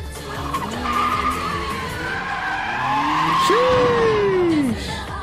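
Tires squealing as a car understeers hard in an Initial D race between a Skyline R32 GTR and an AE86, a long rising-and-falling screech over engine roar, loud and close.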